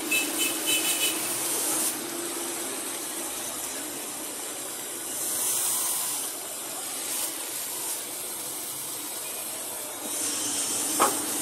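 An oxygen gas torch brazes AC copper pipe on a split unit, giving a steady close hiss and roar that swells and eases slightly as the flame is moved, with no voices.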